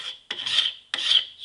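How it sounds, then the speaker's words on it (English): A small Red Devil paint scraper drawn along an Osage orange bow stave, taking the wood down to a single growth ring; two long rasping strokes, close and loud. "then I come up with my scraper here. I use a little Red Devil paint scraper"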